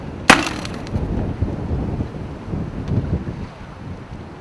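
A rescue throw-line launcher fires during a WOPR lifeguard training session on the Nysa Kłodzka river: one sharp crack near the start, followed by steady rushing wind noise outdoors.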